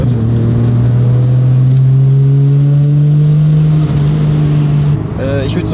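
Toyota Supra MK4 turbo engine revving, a loud sustained drone that rises slowly over about five seconds, then dips, with a brief higher whistling burst at the end.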